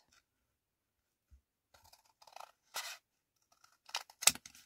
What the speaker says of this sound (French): je prends mes ciseaux et je coupe évidemment